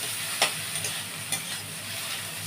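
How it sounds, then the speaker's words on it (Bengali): Eggplant fries in a pan with a steady, soft sizzle, broken by a couple of faint scrapes from stirring. "বেগুনটা একটু ভাজা হয়ে এসছে"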